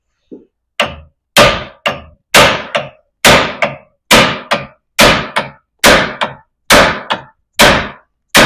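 Hammer blows ring out on a seized part stuck in its sleeve during a lift install on a 1995 Jeep YJ, about a dozen hard, evenly spaced metallic whacks, close and loud, with no talking.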